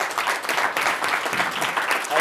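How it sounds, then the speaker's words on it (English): A room audience breaks into applause at a university event, steady dense clapping across the whole stretch at moderate volume. "Give John a round of applause."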